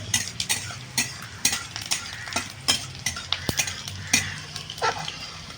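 Garlic fries in oil in a pan for a yardlong bean bharta, with a soft sizzle broken by sharp spatula clicks and scrapes against the metal at an uneven pace, close by.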